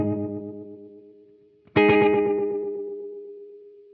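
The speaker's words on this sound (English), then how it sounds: "And what you're getting is sort of this pitch drift." Electric guitar played through an Echoplex tape delay with added age for a wobbling pitch drift: a sustained chord fades away, then a second struck chord rings out with warbling, chorus-like repeats that slowly decay.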